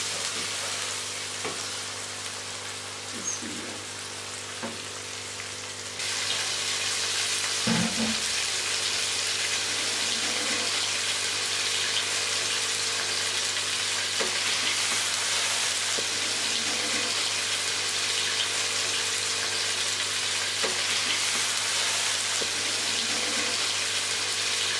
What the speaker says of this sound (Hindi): अब हम इसमें चिकन डालेंगे।